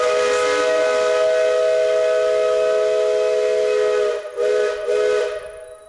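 A steam whistle in Echo Valley, a former mining area, sounds one long, loud blast, then two quick, shorter toots before it fades away, with no voices.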